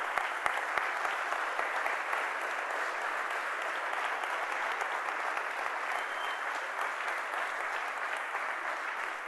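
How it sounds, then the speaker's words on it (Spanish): A church congregation gives a strong round of applause for Jesus during a Spanish-language sermon; an even, sustained wash of many hands clapping, fairly distant, with a few sharper claps early on. "dale un fuerte aplauso a Jesús."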